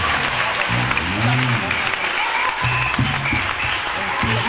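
A church congregation at a French-language worship service applauding continuously, with clapping under voices and sung or called-out exclamations.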